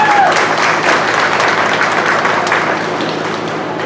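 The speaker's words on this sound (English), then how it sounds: "so please give them a big round of applause" A large audience applauds loudly and continuously at a county fair goat show, a dense wash of clapping that tapers slightly toward the end.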